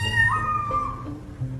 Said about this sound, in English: the top 10 funniest cat sounds you've ever heard